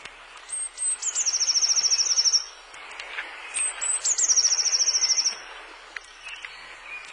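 A small songbird sings a very high, rapid trill, repeated twice with a pause between, clear over faint background chirps and insect-like ticking.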